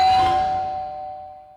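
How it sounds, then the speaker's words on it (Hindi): A household doorbell gives a single bright chime that rings out and slowly decays over about a second and a half, loud and close with no voices. "अब कौन सी घंटी बजा रहे हो भगवान?"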